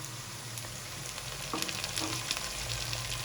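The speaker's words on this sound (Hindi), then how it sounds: "आलू को 1 मिनट तक फ्राई करेंगे" Potatoes frying in oil in a home kitchen, a steady sizzle with soft stirring clicks, growing a little louder midway, heard alone without voices.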